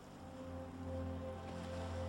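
Ocean surf washes along the Cape Lookout seashore in a faint, steady, low rush, with no voices and no separate breaking waves.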